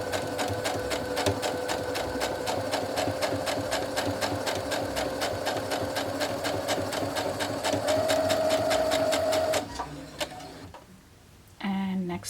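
A sewing machine runs steadily, stitching a quilt block up close with a fast, even mechanical whir, then stops near the end, leaving quiet handling noises.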